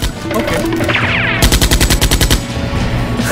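A rapid burst of loud blasts, tightly spaced like automatic fire with a rolling echo, set over constant noisy rumble.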